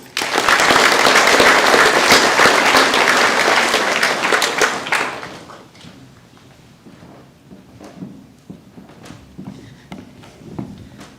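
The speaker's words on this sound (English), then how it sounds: "Can we please give Libby, Charlotte and Lily a round of applause?" A school assembly hall fills with dense applause from many hands for about five seconds, then it fades to scattered shuffling, footsteps and small knocks from the audience.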